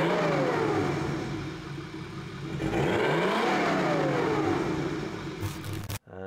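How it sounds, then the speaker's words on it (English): A turbocharged BMW E36 engine runs just after a rebuild, holding a steady mid-pitched drone with rising and falling revs, then cuts out abruptly near the end before a brief restart. "We got the car started."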